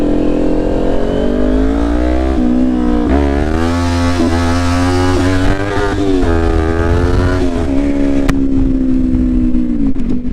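A 2021 Kawasaki Ninja 400 motorcycle engine pulls steadily through rising revs and gear changes, loud and close from the rider's position, with wind rush underneath and no talking.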